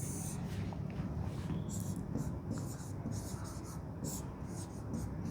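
Someone writes on a board with repeated short scratchy strokes, close and fairly clear over a steady background hiss.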